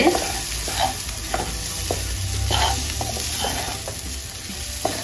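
A lentil and green bean usili is sautéed and stirred in a pan: a bright, steady frying sizzle with repeated scraping strokes of a spoon, close and fairly loud, with no voices.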